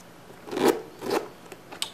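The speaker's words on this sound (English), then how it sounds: "Pretty heavy duty YKK zipper back here." A heavy-duty YKK zipper on the back of a Vans Sk8-Hi Reissue Zip LX sneaker in soft black leather is run in two short rasping pulls, close and fairly quiet, followed by a couple of small clicks.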